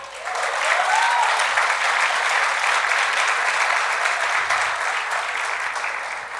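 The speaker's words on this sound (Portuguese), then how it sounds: "Aplauda o Senhor." A church congregation applauds steadily and loudly, a dense wash of many hands clapping throughout without a break, no speech over it.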